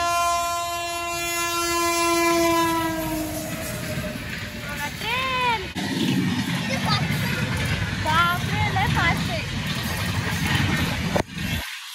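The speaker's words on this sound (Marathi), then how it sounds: "फायनली ट्रेन आली आता तिकडून" A train horn blares long and loud, then a train rumbles past nearby at a level crossing with steady clatter and squeals, while people talk over the noise.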